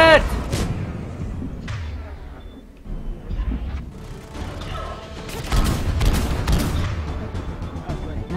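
Gunfire aimed at a phantom in Mass Effect 3, a chaotic sci-fi firefight with scattered shots, thuds and bursts of weapon noise rising and falling, mixed with a speaking voice and dense battle ambience.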